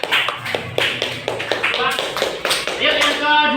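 A classroom group claps in a short round of applause, several quick irregular hand claps at close range, with children's voices chattering over and among the claps.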